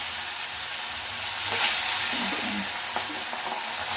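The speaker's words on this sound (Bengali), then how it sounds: "এবার আমি মাছটা ভেজে নিচ্ছি।" Salt-and-turmeric-coated surma fish fries in hot oil, a dense continuous sizzle with occasional pops and faint utensil scrapes, close and steady throughout.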